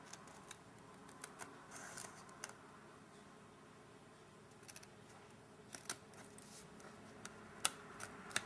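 Small scissors trim dried white glue edges from a handmade pumpkin centerpiece, producing faint, scattered snips and ticks at irregular intervals in a quiet room.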